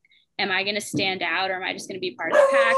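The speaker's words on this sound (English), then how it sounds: "That's my dog. He's hearing a motorcycle outside." Indoors, a dog reacting to a motorcycle passing outside gives repeated barks and yips under a person talking steadily nearby.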